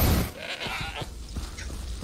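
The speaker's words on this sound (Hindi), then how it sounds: "ये बकरी लोग को जला सकते हैं ना?" Goats bleating in the Far Cry 3 video game, several wavering calls close together over faint background game sound.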